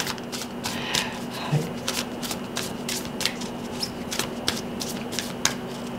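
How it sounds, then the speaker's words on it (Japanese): Oracle cards are shuffled by hand in a quiet indoor reading, giving soft, repeated riffling and flicking bursts in a loose rhythm, close by, with faint background hum. "最後にもう一枚ねオラクルカードを引かせてください。"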